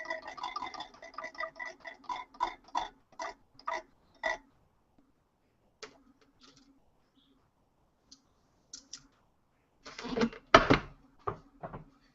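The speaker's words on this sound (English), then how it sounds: "Spin the wheel." A prize wheel spun by hand gives a run of quick, regular clicks that slow and thin out as it winds down, followed after a quiet pause by a few louder knocks and handling sounds close by.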